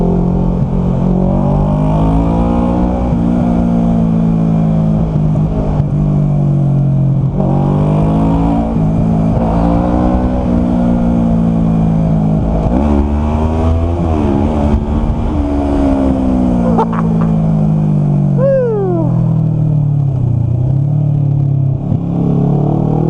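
A truck passes a car on a winding road with a corner, the engine drone rising and falling with gear shifts and a closing swell as the vehicles draw alongside.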